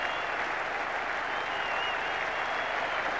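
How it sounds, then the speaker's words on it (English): A packed Saturday afternoon cricket crowd at Old Trafford during the 1981 Ashes Test applauds Ian Botham, a dense, sustained roar of clapping heard at a distance, steady from start to finish. "they're going to applaud him all the way in"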